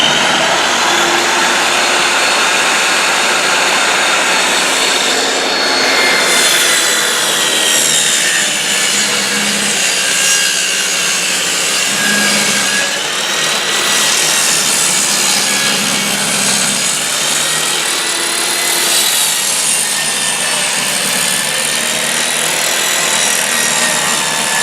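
A power saw cuts a length of wood while the board is pushed through with a push stick, a loud, continuous whining roar with shifting pitch that lasts throughout with no pauses.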